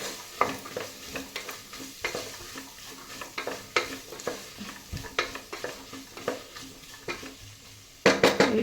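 Carrot, beans and peas sizzle in hot oil for a bachelor-style pulao, with a spoon scraping and tapping the pan in repeated stirring strokes over a constant soft frying hiss, louder near the end.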